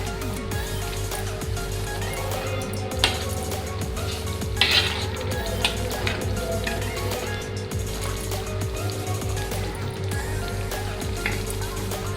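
Fish curry (Telangana chepala pulusu) being stirred in a pan, a steady sizzle with scattered clinks and scrapes of a utensil against the metal, close and continuous with no talking.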